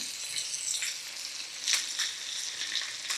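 Pork chops frying in a pan give a steady, close sizzle with crackling spatters throughout and a few brighter pops, and no voices.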